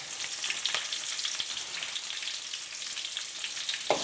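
Peeled shallots and curry leaves sauté in hot oil with a bright, even hiss and crackle close by. Faint spatters sound throughout and a soft knock comes at the very end.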